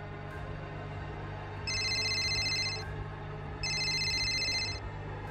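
A telephone rings indoors in a home, two electronic ringing bursts about two seconds apart over a steady low hum, with no one answering or speaking.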